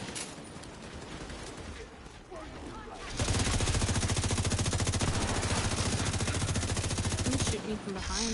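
An enemy heavy gunner in The Division 2 fires a long sustained automatic burst, loud and close, following quieter scattered gunfire and game noise.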